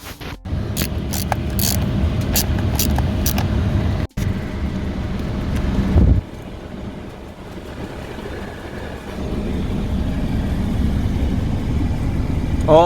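A Toyota Aygo's heater blower motor hums steadily after replacement, a continuous even whir with a couple of clicks and a brief dropout, its pitch shifting slightly midway.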